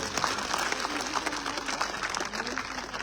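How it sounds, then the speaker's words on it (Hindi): Rally crowd applauding at a BJP candidate's nomination gathering, a steady dense clapping wash that holds through the whole stretch at moderate loudness, with faint voices mixed in. "एक बार मंच वालों के लिए जोरदार तालियां बजाओ।"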